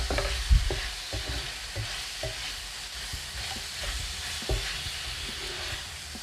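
Pork adobo fries in its own rendered oil, giving a steady close sizzle and crackle, with occasional soft clinks of stirring.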